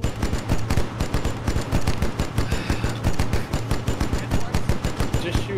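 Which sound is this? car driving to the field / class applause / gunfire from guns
gunfire from guns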